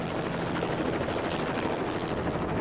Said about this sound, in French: un hélicoptère survole la vallée du Fango